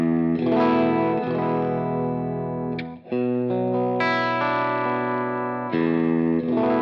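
A Suhr Classic S electric guitar on its humbucker pickup in middle position, played clean with a warm, slightly driven tone, chords ringing out in a steady strummed pattern with a brief break midway.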